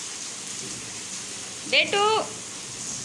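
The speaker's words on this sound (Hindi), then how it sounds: "आंधी तूफान के साथ बारिश होती आज।" Heavy rain falls during a storm in Chandrapur, a continuous broadband hiss of downpour that fills the scene throughout, briefly interrupted near the middle by a person calling out.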